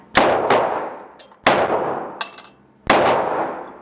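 Glock pistol shots fired at a steel target from 7 yards, three to four sharp loud reports spaced about a second or more apart, each with a short ringing decay.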